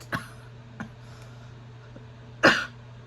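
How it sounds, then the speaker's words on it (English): A single short cough near the mic, followed by faint ticks and then a louder, sharper cough-like burst against a quiet low hum. "Excuse me, I had a cough."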